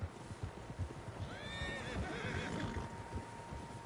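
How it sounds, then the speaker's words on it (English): Horse whinnying in the video game Red Dead Redemption 2, a single long wavering neigh rising over a busy outdoor background of hoofbeats and trampling, moderately distant and fairly quiet overall. "Horses, quite a few of them."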